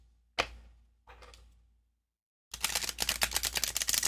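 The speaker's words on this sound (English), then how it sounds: "Now I'm going to give it a riffle face down" Two quick riffles of a Wisdom of the Wild Things oracle card deck, face down, fluttering, then after a pause a longer, louder burst of rapid card flicks ending in a dense patter.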